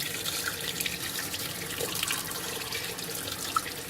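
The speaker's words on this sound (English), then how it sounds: "let's rinse with water here and see the difference" Tap water runs steadily into a sink while a frying pan, just cleaned with degreaser, is rinsed under it. The broadband splashing gushes continuously and at moderate level, with a few faint drips and clinks and no talking.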